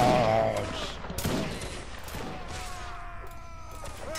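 Musket volleys in the Napoleonic Wars mod for Mount and Blade Warband: a burst of gunfire crackles at the start, then scattered shots ring out amid ongoing battle noise.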